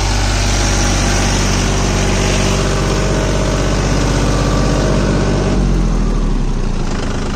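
A tractor engine runs steadily at close range with a loud, continuous low rumble that holds throughout and eases slightly toward the end.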